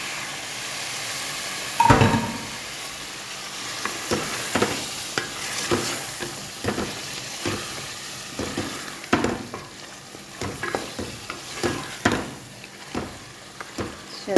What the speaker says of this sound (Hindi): अब मैं ये जो चिकन है ये इसमें डाल के 10 मिनट के लिए इसको इसमें भून लूँगी